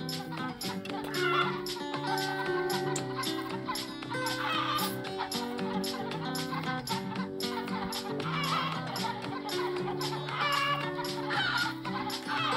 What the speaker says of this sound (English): It's a lot of chickens, guys.